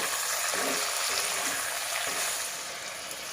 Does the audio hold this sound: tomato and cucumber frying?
yes